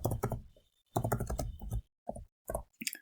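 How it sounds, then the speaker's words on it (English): Bursts of quick key clicks on a computer keyboard as a lab test name is entered into a clinical query, close and fairly quiet, with short pauses between the runs of typing. "I'm going to type in hemoglobin A1C"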